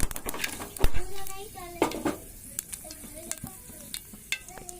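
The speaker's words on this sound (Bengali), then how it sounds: "একটু 5 ফোড়ন দিয়ে দিলাম, একটু নেড়ে চেড়ে নেব।" Panch phoron spices fry in white oil in a pan, crackling and sizzling while a utensil clinks and scrapes in quick irregular strokes, with brief voiced sounds in the background.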